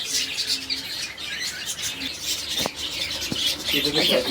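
Sun conures and cockatiels at a breeding farm in Sahapur, Howrah, chatter with steady high chirps and squawks from many birds at once, close and busy, with faint talk beneath.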